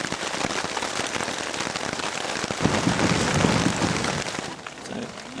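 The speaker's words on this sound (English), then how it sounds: "Thunderstorm." Heavy rain pours steadily with a dense hiss on a Northern California mountain trail, and a deep rumble of thunder swells midway before easing off.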